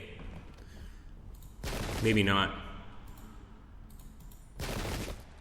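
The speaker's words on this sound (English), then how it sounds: "Let me get Prince Friedrich's regiment to fire first." Musket volley fire in the American Revolutionary War 3 game: two loud, dense bursts of crackling gunfire, one near the middle of the clip and a second shorter one near the end, with a brief spoken remark in between.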